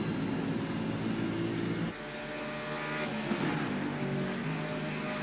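Supercars race car engine roaring steadily at high throttle down a straight, a sustained loud droning tone with a brief dip partway through.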